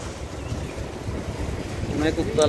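Rough, blustery wind roars over surging sea water at Patenga sea beach, Chattogram, heard from a ship, in a continuous broad rush that swells louder near the end, with a faint voice underneath.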